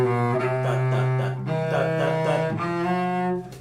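Solo cello playing the slow Sarabande from Bach's Cello Suite No. 1, sustained bowed notes with a few pitch changes, close and clear with no talking.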